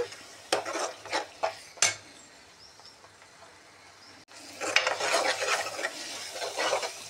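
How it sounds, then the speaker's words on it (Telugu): Spice masala for a Vanjaram fish curry is stirred in a pan: several sharp utensil knocks against the metal, a quiet pause, then steady scraping and sizzling, with no speech. "ఈ కారాలు అవన్నీ కొద్దిగా పచ్చి వాసన పోయిందాక కలుపుకోవాలి"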